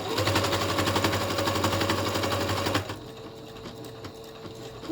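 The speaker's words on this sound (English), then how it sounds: "I go forward, back stitch it, and that locks it in place. And I'm going to sew right to this very corner here." A sewing machine stitches an upcycled hoodie into a pillow, running loud and close in a fast, even chatter for about three seconds, then dropping to a quieter, slower whir.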